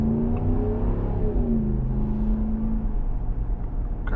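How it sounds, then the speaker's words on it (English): A 2026 Ram 1500 with a V8 Hemi and aftermarket exhaust accelerating at night, a deep rising engine rumble with a climbing tone heard steadily from inside the cab. "Gosh, this exhaust sounds so good on this truck"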